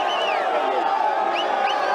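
Voters at a polling station in Saint-Georges school, Kinshasa, cheer and applaud in a steady crowd murmur during the 2023 elections, with occasional rising whistles and whoops above the clapping.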